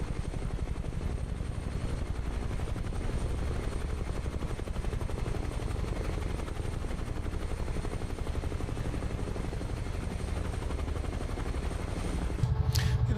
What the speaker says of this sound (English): I think the sound is one of the nicest things about this helicopter